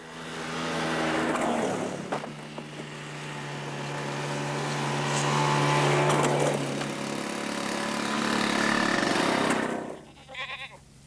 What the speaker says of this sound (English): This is a kind of motorised bobsleigh which everyone in the film crew can master